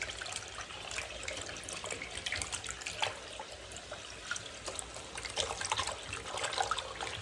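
Water running from a tap while soap is squeezed and rinsed out of a cap: a continuous close splashing trickle with small gurgles and handling sounds throughout, no voices.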